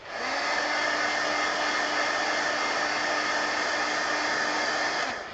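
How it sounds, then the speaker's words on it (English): A heat gun drying paint on a coloring page blows a steady, loud, even whoosh with a faint whine, running continuously for about five seconds before cutting off. "now I'm going to dry this. Heat gun."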